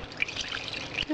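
Water pours briefly into a pot of vegetarian stew, a short close splashing trickle with a few drips.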